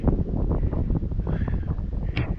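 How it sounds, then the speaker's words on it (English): Low rumbling wind in Yellowstone National Park, Wyoming, buffets the microphone steadily throughout, a close, muffled blustering with no clear speech. "It's a little windy"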